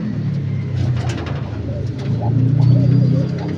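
A pigeon kept for breeding coos close by in repeated low, throaty bursts, louder toward the end, over a faint background hum and distant traffic.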